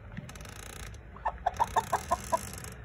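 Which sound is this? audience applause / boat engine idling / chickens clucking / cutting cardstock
chickens clucking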